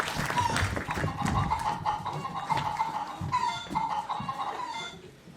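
A hen clucks in a steady run of choppy clucks for several seconds during a stage musical, fairly close and clear, with no talking.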